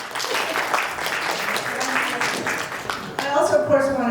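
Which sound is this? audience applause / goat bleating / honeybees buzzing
audience applause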